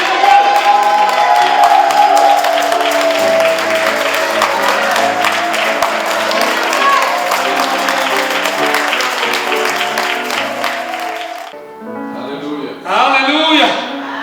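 A church conference crowd cheers and applauds loudly and steadily for about eleven seconds to welcome an apostle from Ethiopia, then fades as a voice takes over near the end.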